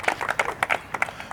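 Brief clapping from a small group honoring a varsity player at a team awards event, a short burst of scattered applause.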